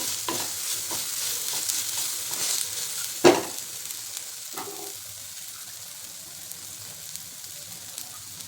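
Garlic paste and red chilli sautéing in hot oil in a pan for a village-style puri bhaji, with a steady soft sizzle, a few stirring scrapes and one sharp clatter early on, no talking.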